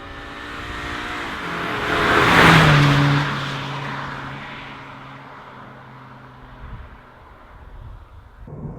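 An automatic Subaru BRZ with paddle shifters accelerates hard, its engine note swelling to a loud peak and then dropping as gears change, before rising again more quietly.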